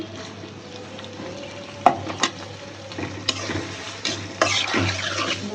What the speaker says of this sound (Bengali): পেঁয়াজ আর চিংড়ি মাছ একবারে ভাজি।